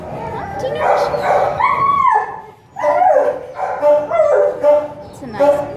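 A two-year-old brindle mastiff mix dog gives close barks, yips and whimpers in short bursts, mixed in with a person's gentle talk.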